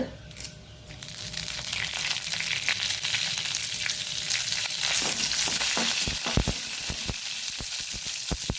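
Urad dal and curry leaves hit hot oil for a capsicum chutney, bursting into a loud, steady sizzle with sharp crackles and pops growing denser toward the end, close and continuous with no talking.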